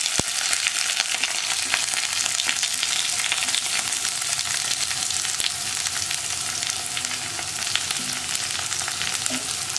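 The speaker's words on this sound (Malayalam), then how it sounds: "നമ്മൾ കട്ട് ചെയ്ത് വെച്ചിരിക്കുന്ന സവോളയും പച്ചമുളകും വേപ്പിലയും കൂടി ചേർത്ത് കൊടുക്കാം" Onion, green chilli and curry leaves frying in hot oil in a Kerala kitchen, a steady loud sizzle with crackling pops throughout and no speech.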